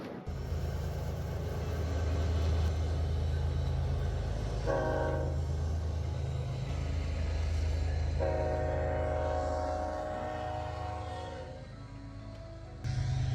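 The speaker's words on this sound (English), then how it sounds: "once every hour or so a train comes past and toots the horn for the crossing" A freight train rumbles past a grade crossing in open country among yellow fields and sounds its horn in two long blasts over the steady roar of the wheels, loud and fairly close, with no one talking.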